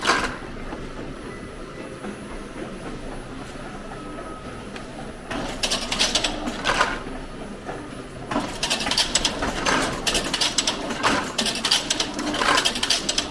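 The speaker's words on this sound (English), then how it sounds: "These silly little things right there, they make sure those eggs drop point down every time." A mechanical egg-handling machine rattles and clatters continuously, with busier, louder bursts of rapid clicking as eggs are dropped point down, close by and without talk.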